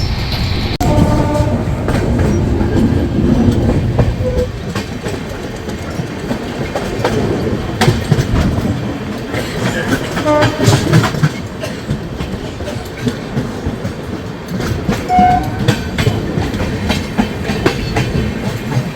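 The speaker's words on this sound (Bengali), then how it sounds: "ফার্স্ট ক্লাসে ডাউন আকাল তখ্ত এক্সপ্রেসের পাটনা থেকে কলকাতা অবধি জার্নি ভিডিও।" Down Akal Takht Express running from Patna toward Kolkata, heard from inside a first-class coach: a steady, loud rumble with continuous clickety-clack of wheels over rail joints and no talking.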